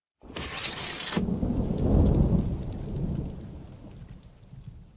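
A rainstorm opens with a brief bright hiss, then a deep rolling thunderclap builds and fades under steady rainfall, loud and close with no voices.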